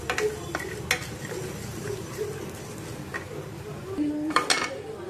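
Spices such as fenugreek seeds dry roasted in a pan for a Konkani Malvani vade spice powder, with a spatula scraping and clinking sharply against the metal over a low, steady background hiss.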